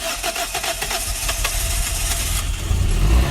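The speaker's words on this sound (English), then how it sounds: "It was a very rough start, but you know, the car's on." A car engine after being cleaned with a water blaster cranks and catches roughly, with sputtering pulses at first, then settles into a loud, steady, uneven idle close by.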